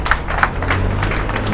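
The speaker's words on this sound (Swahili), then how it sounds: "Situmpe Kristo makofi jamani" A church congregation at a sermon claps in a short, brisk burst of applause, with several louder hand claps standing out near the start.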